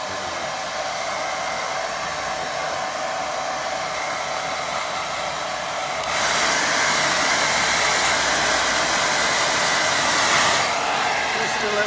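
A hair dryer blows a steady, loud roar across a watercolour painting of grazing sheep, its pitch and level shifting partway through as the airflow changes, then running on continuously with no talk.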